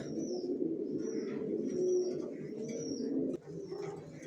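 Racer pigeons coo repeatedly in soft, rhythmic bursts close by, with faint chirps in the background and no talking.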